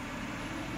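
Bus engine in OMSI 2 holding a steady, loud drone as it accelerates inside a terminal, continuous with no breaks.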